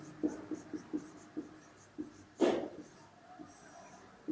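Chalk or marker writing on a board, a quiet series of short taps and scratches at an uneven pace, with one longer stroke partway through and faint room sound between.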